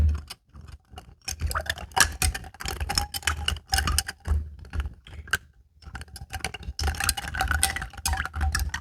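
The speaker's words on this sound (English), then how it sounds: "Well, I'm gonna stir this with the ice in it." Ice rattling and clinking in a glass as an Old Fashioned cocktail is stirred, quick irregular ticks and taps close up, pausing briefly midway before resuming.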